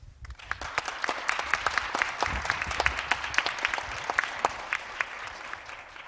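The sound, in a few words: audience applause at conference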